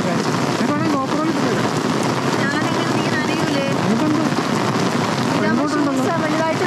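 Steady rain pours down at Ulun Danu Beratan temple in Bali, a dense constant patter close around, with a person speaking intermittently over it.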